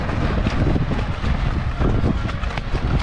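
Strong wind buffets the microphone outdoors near water, producing continuous loud rumbling gusts for the whole stretch with no talk.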